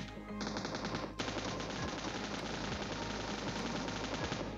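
M249 machine gun in PUBG Mobile firing long sustained bursts, a dense rapid rattle of shots that runs nearly nonstop, steady and fairly close, with a brief break near the start.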